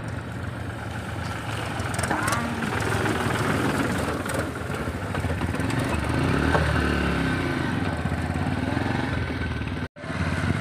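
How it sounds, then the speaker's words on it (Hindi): A tractor approaching on a rural road near a culvert during flooding, its engine a steady loud rumbling drone that fills the whole stretch before cutting off abruptly near the end. "और भाई सामने से ट्रैक्टर आता हुआ"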